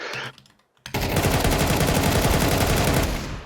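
Rapid automatic gunfire while moving in Counter-Strike 2, a dense, loud continuous burst of shots starting after a short near-silent gap and running to the end.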